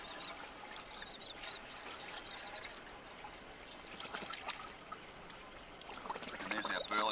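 Water trickling and pouring into a clear acrylic bait trap set to catch poddy mullet, a faint, steady gurgle with splashy bursts growing near the end.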